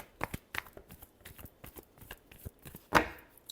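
Tarot cards being shuffled in a quick run of crisp papery riffles and taps, close by and alone, ending on one louder snap.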